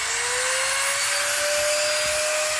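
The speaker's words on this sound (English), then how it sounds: "and start dremeling away the plastic." Dremel rotary tool grinding away plastic, producing a loud, constant high whine that climbs slightly in pitch and continues without break.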